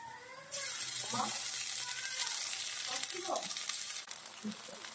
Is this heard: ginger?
yes